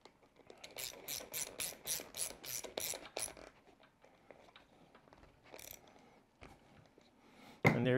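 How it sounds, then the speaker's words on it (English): A hand ratchet tightens the nut on a Hot Racing rear hub of an ARRMA Outcast RC car, giving a rapid run of crisp clicking strokes, then scattered quieter clicks and a sudden loud burst at the end. "Tighten our nut."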